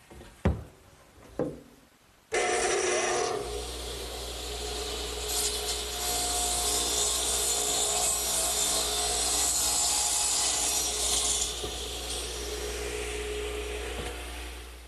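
Power saw cutting angled ends on wooden supports for a garden swing, a few knocks and clicks as it starts, then a loud sustained whine with a low motor hum that runs for over ten seconds.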